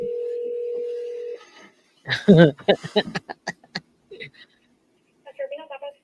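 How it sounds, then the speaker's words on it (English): A speakerphone in a courtroom plays a steady dial tone, then a quick series of short dialing beeps. Faint voices and laughter mix in between the tones. "They're going to call them on speakerphone because the doctors didn't show up."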